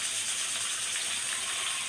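Water is poured into spices cooking in a pan for a Bengali piyaji dish, a steady close hiss and gush lasting the whole moment without pause.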